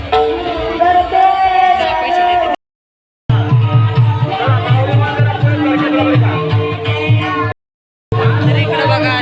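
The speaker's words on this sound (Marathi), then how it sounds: "अशी गर्दी लाईन लागलेली" A dense crowd murmurs while lined up for darshan at a Pandurang temple, steady indistinct chatter with brief gaps, and someone talks over the din.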